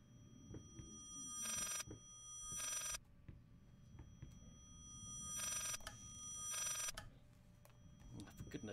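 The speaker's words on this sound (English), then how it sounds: "A phone, maybe?" A telephone rings in the horror video game Layers of Fear, two bursts of bright electronic ringing separated by a quiet pause, each burst a rapid trill, with faint low ambient sounds and brief soft noises between.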